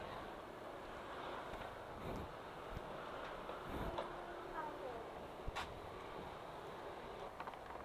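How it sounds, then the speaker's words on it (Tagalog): Steady broadband wind roar buffets the microphone throughout, with faint background rumble and a few brief clicks. "Lakas ng hangin."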